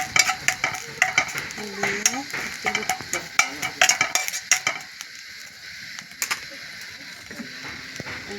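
Wet neem leaves being stirred in a pan to dry off their water, with rapid rhythmic scraping and clattering of a utensil against metal over a light sizzle, close and fairly loud.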